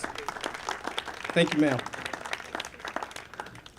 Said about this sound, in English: Let's give Congresswoman Maxine Waters another round of applause.